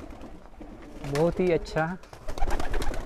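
Pigeons at a pigeon sale coo in a few soft, throaty bursts over a low background hum, with someone speaking close by and an outdoor, crowded feel.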